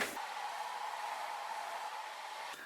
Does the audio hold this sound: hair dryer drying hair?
yes